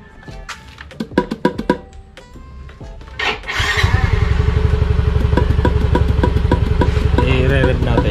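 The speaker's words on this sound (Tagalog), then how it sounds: "i-re-rev natin para lumakas ang" After a few sharp clicks and rattles, a motorcycle engine catches and runs hard at high revs with a dense, buzzing roar that stays loud and steady to the end.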